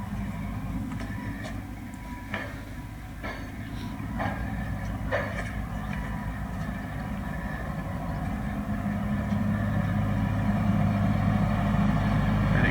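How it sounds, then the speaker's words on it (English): A big generator steadily charging an electric mini digger, producing a constant low engine drone that grows slightly louder and heavier toward the end, with a few faint clicks over the hum. "And it takes 8 hours to charge it up with this big off generator"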